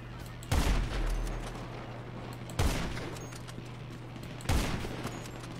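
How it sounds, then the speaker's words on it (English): Gunfire in GTA 5 Online during a superyacht salvage contact mission: three loud separate bursts of shots, each sharp crack trailing into a rumbling decay, spaced about two seconds apart over a low steady hum. "They are shooting out of nowhere."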